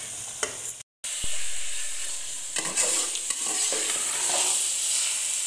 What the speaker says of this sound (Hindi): ये देखिए जी, हल्की आंच पे मैंने फिर से भूनना शुरू कर दिया।